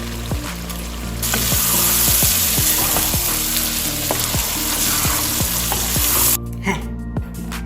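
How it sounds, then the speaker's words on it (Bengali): Meat sizzles steadily in a hot pan with garam masala added, a dense continuous frying hiss punctuated by regular scraping clicks of a spoon stirring, loud and close, ending in a few sharper knocks. "আমি ভাজবো দশ থেকে পনেরো মিনিট"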